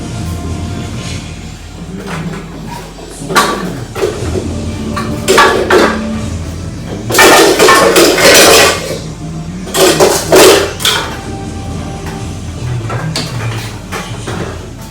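Bamboo shoots are dropped and packed into a large cooking pot, giving close metallic clanks and clatters in irregular bursts over a steady low kitchen background.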